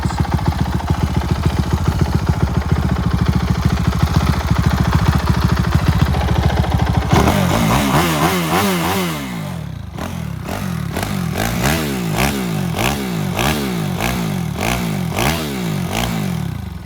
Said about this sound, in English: It's a bit loud to rev up at home